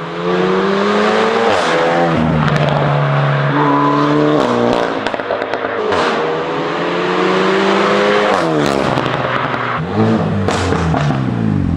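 A tuned Renault Megane 4 RS Trophy with a decat exhaust revs repeatedly, loud and raspy, pitch climbing and falling in quick sweeps, close and continuous with sharp pops between rises.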